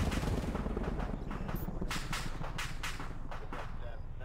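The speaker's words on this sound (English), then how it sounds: "Auto cannon fire." Dense, rapid bursts of heavy automatic cannon fire in a military video game, loud and continuous, with a voice talking faintly underneath.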